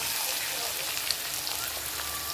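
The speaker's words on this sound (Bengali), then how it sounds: "ভাজাটা নাবিয়ে নিলাম এবার পেঁয়াজটা দিয়ে দিচ্ছি" Onions are dropped into hot oil in a pan after the potatoes come out, giving a steady, even frying hiss that stays close and constant for a couple of seconds.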